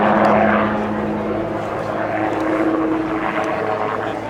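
A helicopter hovers at the Royal International Air Tattoo air show, a loud, steady rotor and engine roar with a droning hum, close and continuous, faint commentary mixed underneath.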